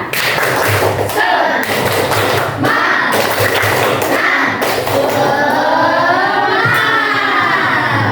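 A group performs the rhythmic 'tepuk semangat' clapping chant in a classroom. Firm, patterned claps and thumps come loud and close, with chanting voices and a tonal voice sliding over them toward the end.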